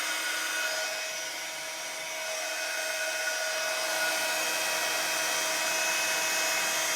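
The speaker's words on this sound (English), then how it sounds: "Heat your gun up really well, and it's the less time on your vellum." A heat gun blows hot air over vellum for embossed card making, giving a steady, loud, close whooshing roar that holds at an even level the whole time with no voices.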